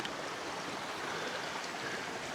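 River water rushes steadily at Pulang Bato Falls, a faint, even wash of flowing stream noise with no voices.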